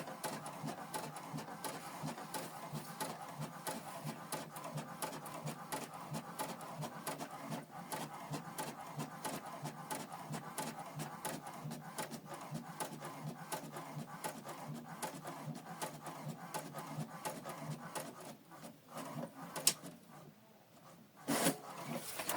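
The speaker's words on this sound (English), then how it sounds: "So the document is printing." A printer runs a document job at 600 dpi, giving a steady, continuous mechanical whirring and clatter at close range that eases briefly near the end before resuming.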